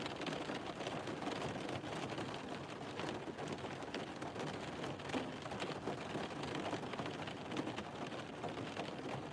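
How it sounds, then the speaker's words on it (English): Steady rain pours down outdoors, a dense, even hiss of drops hitting surfaces that carries on unbroken for the whole stretch, with no voices over it. "Is the rain soothing?"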